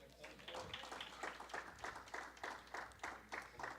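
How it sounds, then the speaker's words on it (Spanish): Faint, steady rhythmic clapping in unison rises from the congregation at a church service, keeping an even beat throughout, with voices underneath. "¿Cuántos pueden dar otro fuerte aplauso a Dios?"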